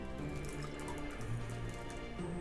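A cocktail is double-strained from a shaker through a fine strainer into a glass, making a continuous close trickle and splash of pouring liquid with no breaks throughout.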